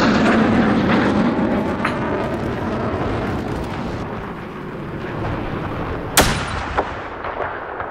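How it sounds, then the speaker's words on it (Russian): An enemy jet roars through a Battlefield 4 battle, a loud, sustained rumbling wash, broken near the end by a sharp blast and a few more thuds. "Обнаружен вражеский джет!"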